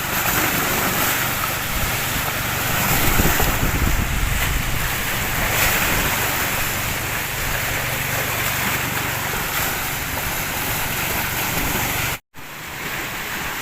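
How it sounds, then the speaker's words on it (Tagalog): A strong northeast monsoon wind blows over the sea, filling the air with loud, constant roaring gusts and crashing waves, with heavy wind buffeting on the microphone and a brief dropout near the end. "Malakas ang amihan."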